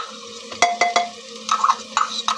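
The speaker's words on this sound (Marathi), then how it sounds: "फ्रेश अशी अद्रक लसूणची पेस्ट टाकूया." Fresh ginger garlic paste goes into a pan and is stirred, giving close scraping and clinking strokes of a spoon against metal with a soft sizzle underneath.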